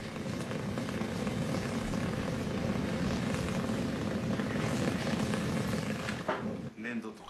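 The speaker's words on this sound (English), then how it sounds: "The low simmering sound is the steel reaching its melting point." Steel heats toward its melting point inside a Japanese swordsmith's forge, packed under clay and ash, giving a loud, steady, unbroken roaring hiss that fades near the end.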